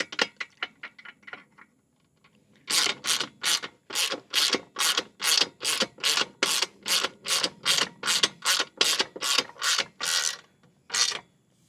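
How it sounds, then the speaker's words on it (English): Socket wrench ratcheting as 16mm bolts are tightened on an OUTFITR Rockland 2-bike hitch-mount e-bike rack; a few light clicks first, then a long, even run of about twenty loud, regular ratchet strokes, close up and with no talk. "Let me find the right size socket to tighten these down."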